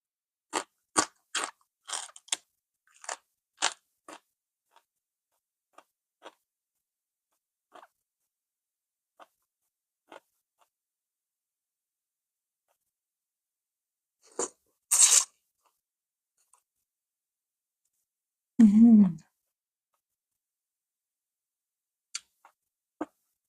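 Someone bites and chews a crunchy food, with a quick run of sharp crunches at first, then sparse single crunches separated by long silences.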